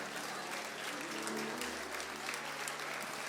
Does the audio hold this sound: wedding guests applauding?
yes